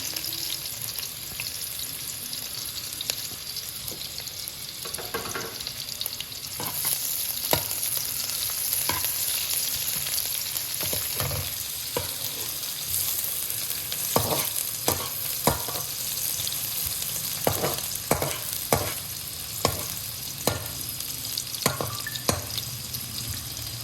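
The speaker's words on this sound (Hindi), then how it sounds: "अब इसमें प्याज डाल दें। इनको अच्छी तरह ब्राउन कर लें।" Onions fry in hot ghee in a kadhai wok for a daal mash dish, giving a steady crackling sizzle with repeated scrapes and clinks of a spoon stirring against the pan. No one speaks.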